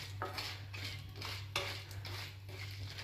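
Popcorn kernels are stirred in a hot pan, with a spoon scraping and clinking against the metal in a quiet, regular rhythm and no talking.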